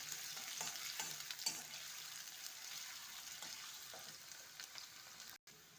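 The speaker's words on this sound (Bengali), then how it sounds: "এবার এতে দেব আমি পেঁয়াজ কুচি, পেঁয়াজটাকে আমি একটু লাল করে নেব" Chopped onions fry in a pan for a dhaba-style dal, a continuous bright sizzle with intermittent stirring scrapes and a brief cut near the end.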